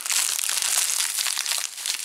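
A small plastic bag crinkles and rustles continuously up close, loud and steady with dense crackling texture and no voices.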